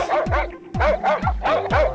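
A cartoon dog barks loudly and close in a rapid run of about five sharp, yelping barks, each with a quick rising pitch.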